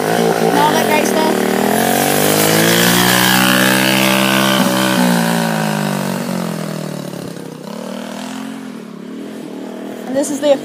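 Street Beast 'Wheelie King' vehicle under test, engine droning and revving loudly and close with a steady harmonic whine that sinks in pitch, then fading toward a rougher idle; a voice talks over it.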